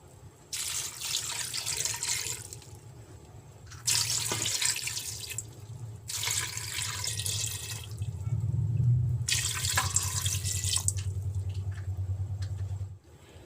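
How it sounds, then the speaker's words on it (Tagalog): Tap water runs into a cooking pot holding chicken feet, a steady close stream that starts and stops in several bursts with short pauses between, no talk over it. "lalagyan lang natin siya ng 4 cups of water"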